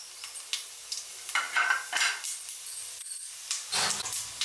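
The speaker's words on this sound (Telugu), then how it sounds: "గీ కొంచెం వేడైన తర్వాత whole garam spices, biryani spice అన్ని యాడ్ చేసుకోండి దీనిలోకి." Whole garam spices and biryani spices sizzle and crackle in hot ghee in a pan, a steady close frying hiss with occasional stirring scrapes, no talking.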